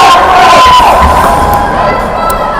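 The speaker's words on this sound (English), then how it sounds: "Here the Lions parents bringing up the cheer again." Parents at a youth hockey game cheering and shouting loudly as a crowd, a sustained roar of voices with high whistles or calls rising through it.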